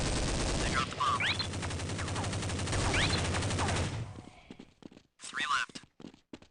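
Dense, rapid gunfire from a war video game fills the first four seconds through a mid-2000s budget PC's onboard sound, then breaks into scattered, sharper shots and bursts.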